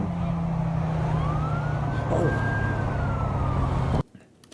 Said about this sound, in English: That scared me in real life hearing that. That siren.